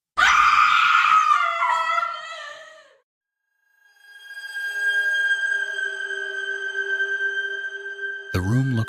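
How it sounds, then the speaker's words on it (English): A scream echoes through the psychiatric wing of an abandoned hospital, a sustained wavering cry that fades out, followed by a long eerie tonal drone and a sudden harsh burst at the end. "from somewhere deeper in the psychiatric wing, we heard a distant scream"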